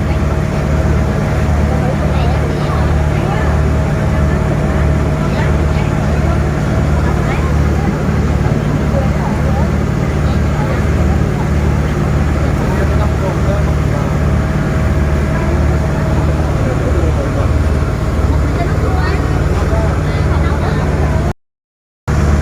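Local boat returning from an island near Nha Trang, a loud, steady engine drone with a low rumbling hum and constant water noise, continuous throughout before cutting out briefly near the end.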